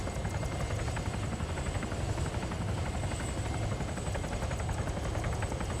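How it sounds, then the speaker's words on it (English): A transport helicopter in a military video game flies steadily with a continuous rotor drone and engine whine, loud and constant throughout without any break. "It's definitely my favorite helicopter in the game."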